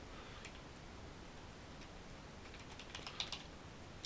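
Computer keyboard keys typed in a quiet room for a network configuration command, a few soft scattered taps early then a quick cluster of sharper clicks near the end, close and alone with no talk.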